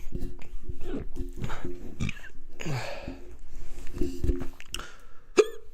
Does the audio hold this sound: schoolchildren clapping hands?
no